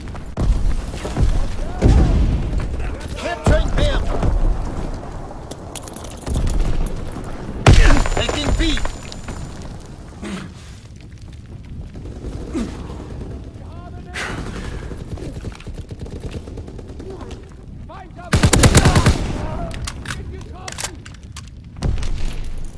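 BAR rifle fire in the World War II shooter Call of Duty WW2 comes as repeated loud bursts and booming shots separated by quieter gaps, with game voices now and then.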